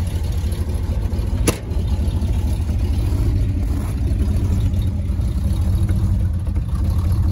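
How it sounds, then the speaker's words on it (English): A low, steady idle from a car engine fitted with a Comp cam, running with a slightly uneven loping rhythm, close and continuous with no talking. "It's got a comp cam in it, so she's got a little bit of a lope to it."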